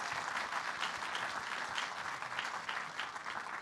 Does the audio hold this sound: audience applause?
yes